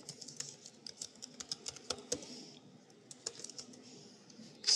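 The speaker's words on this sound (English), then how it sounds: "let's just type anything" Typing on a computer keyboard while entering text into a file in a Linux terminal: quiet, close clicks in quick irregular bursts with short pauses, a louder clack at the end.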